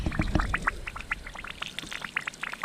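Water from a koi pond running out onto the ground around an apple tree, an irregular splashing and gurgling pour with quick bright spatters, close and fairly steady throughout.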